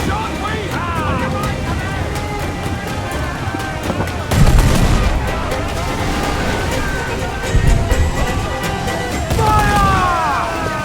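Ship cannons booming in an Assassin's Creed 4 Black Flag naval battle, a few heavy blasts rising over constant sea and battle noise while crew voices shout throughout.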